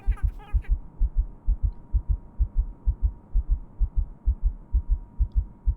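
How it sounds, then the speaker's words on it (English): A heartbeat in the horror video game Without A Dawn: a deep, steady lub-dub pulse, loud and close, repeating about every third of a second, with a brief voice at the very start. "Do you hear the heartbeat? That's not my heartbeat."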